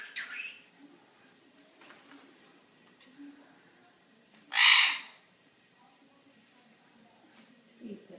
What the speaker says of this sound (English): He's a bird named Tweet